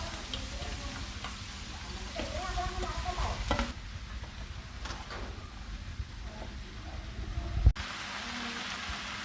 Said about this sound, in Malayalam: ഇനി ഇതിലേക്ക് നമുക്ക് വൃത്തിയാക്കി വെച്ചിരിക്കുന്ന ചുണ്ടക്കയും ഇട്ട് കൊടുക്കാം